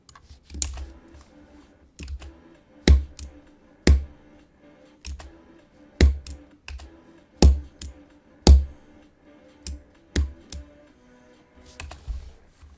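Computer keyboard keys clack in uneven bursts, with heavier thumps that sound like a well-worn spacebar, close and fairly loud with short pauses between strokes.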